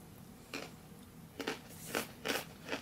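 Dry MRE crackers from a 1993 Menu No. 9 Pork Chow Mein ration bitten and chewed, five distinct close crunches at uneven intervals over quiet room tone, with no talking.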